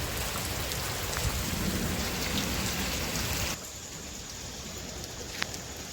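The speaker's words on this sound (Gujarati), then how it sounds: "એક ધારી વીજળી થાય છે અને વરસાદ ભાઈ જો ગાંજે" Heavy rain pours steadily at night, a dense hiss that drops to a lighter patter partway through, with a faint crack of thunder near the end.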